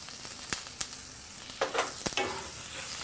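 Baby artichokes and garlic sautéing in a pan make a close, steady sizzle with several sharp clacks and scraping bursts as they are tossed, and no one speaks.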